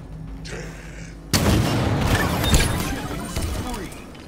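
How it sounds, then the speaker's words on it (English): Explosions and gunfire crash through a Halo Infinite match, starting after a quiet opening and then holding a dense, loud barrage of booms and blasts with sharper shots scattered on top. "explosions."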